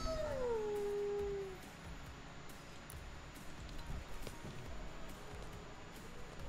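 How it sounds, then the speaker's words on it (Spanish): Howl emote from the video game Fortnite, a single drawn-out wolf-like howl gliding downward over about a second and a half, then quiet background. "Aullido."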